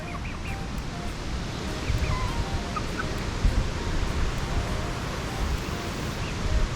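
Chickens, a white rooster and a yellow hen among them, peck, cluck and call faintly over a dense, noisy outdoor background, with scattered short squawks and chirps throughout.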